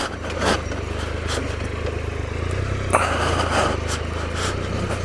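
A Triumph Explorer XCa motorcycle rolls at low speed along a slippery clay forest trail, its engine a steady low rumble mixed with wind noise, with scattered knocks and scrapes from the ground.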